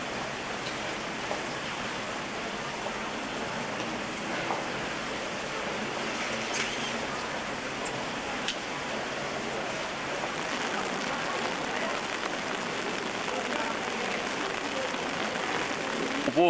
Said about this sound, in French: Il pleut dehors, mais il fait beau dans nos cœurs.